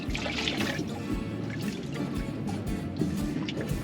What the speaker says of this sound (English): I'm just rinsing them and wringing them out